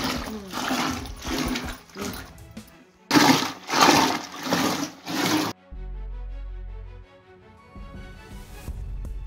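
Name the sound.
churning curd with a wooden churner to make butter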